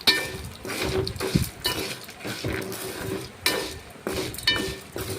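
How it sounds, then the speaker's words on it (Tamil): Tamarind and coconut sautéing in hot oil for a sundakkai thuvaiyal, with a low sizzle under repeated clinks and scrapes of a spoon against the pan as the mixture is stirred, close by. "அதையும் எண்ணெயில் ஒரு லைட்டாக பரட்டி விடுங்க"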